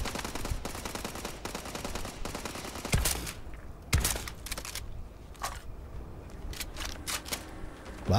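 Gunfire in the space game Starfield: sharp shots and bursts, some single and some in rapid clusters, ring out against a busy game soundscape, with louder cracks near the three- and four-second marks.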